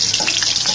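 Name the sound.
chopped onions added to hot oil in a wok, sizzling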